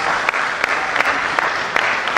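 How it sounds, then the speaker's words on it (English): Loud, close audience applause after a college lecture presentation, dense steady clapping from a crowd with a few sharper individual claps poking through. "a hand of applause for our"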